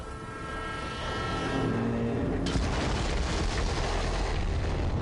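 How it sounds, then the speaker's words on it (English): Explosion in Borderlands 3 on a train in an old west setting, a sustained loud rumbling blast that swells and roars steadily, mixed with engine-like noise, with no voices. "Boom. The explosion."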